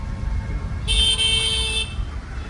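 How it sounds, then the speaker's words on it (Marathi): Car horns honk in busy Mumbai street traffic, one sustained toot of about a second standing out loudly over a steady rumble of road noise. "ट्रॅफिक ट्रॅफिक खूप जास्त आहे हा"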